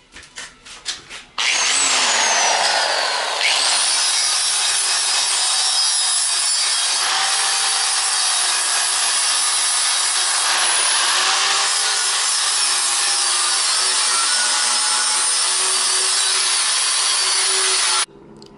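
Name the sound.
sander smoothing brass brazed onto steel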